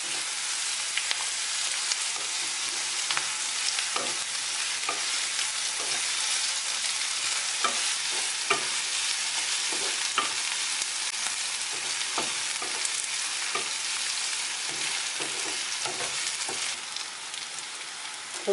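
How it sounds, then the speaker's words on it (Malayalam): Onions with curry leaves sautéing in a pan for a Kerala prawn thoran, giving a steady, close sizzle with scattered crackles and stirring scrapes throughout, no voices. "നമുക്ക് കറിവേപ്പിലയും കൂടെ ചേർത്ത് വഴറ്റാം."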